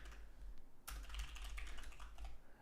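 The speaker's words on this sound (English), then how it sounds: "Let me just type in the chat." Typing on a computer keyboard: after a brief quiet moment, a continuous flurry of close, quick key clicks carries on to the end, with no talking.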